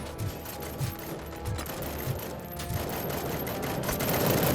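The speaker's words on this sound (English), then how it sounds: "Covering fire!" Rapid automatic gunfire from a firefight in the video game RoboCop: Rogue City, a dense continuous barrage of shots over loud background noise, with no clear talk.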